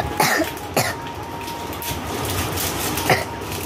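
A few sharp coughs, two close together near the start and another a few seconds later, over a steady low background hum.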